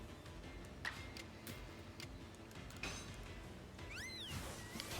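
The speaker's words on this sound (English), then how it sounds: "The cat wants in the forbidden window." A pet cat meows at a window, a few short calls standing out against a steady background of game music and soft ticking.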